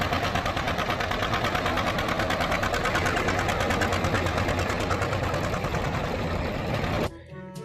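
Green tractor engine in a cartoon, a steady, loud mechanical chugging with a rapid rhythmic rattle that runs continuously for about seven seconds, then cuts off abruptly.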